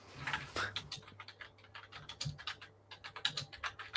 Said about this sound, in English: Oh, Matt's got a noisy keyboard.